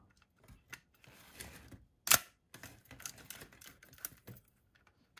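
Mechanical clicks and a sharp shutter release from a repaired Nikon S rangefinder camera fitted with a Nikkor 5cm f/2 lens, quiet handling sounds around one crisp snap near the middle, with no talking.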